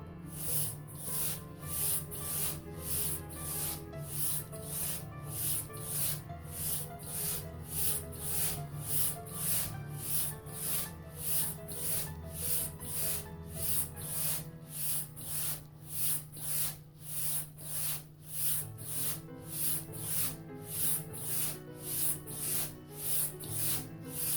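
Rhythmic back-and-forth scraping strokes of a straight razor on a hone, spine leading, evenly paced and repeated many times, close and fairly quiet, with no talking.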